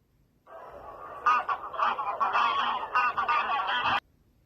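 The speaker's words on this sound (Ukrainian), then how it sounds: "Гусак гелгоче." A gander honks loudly and close by, a continuous stream of harsh, nasal calls lasting a few seconds.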